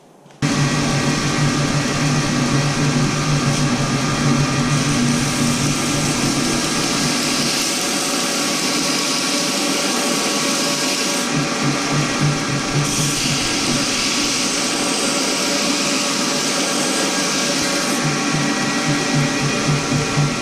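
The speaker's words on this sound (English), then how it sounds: "I'm going to move over here to the belt sander and get this tapered down" A belt sander tapers a metal spur, its motor and belt running in a continuous whirring grind at close range, with slight shifts in pitch and pressure as the workpiece is held against the belt.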